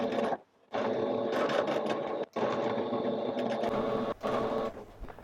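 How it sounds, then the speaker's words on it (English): Sewing machine stitching a pirate-style shirt, running in steady loud bursts with two brief pauses, its rattling hum continuous and close. "I'm going to be using the sewing machine because it'll go a lot faster"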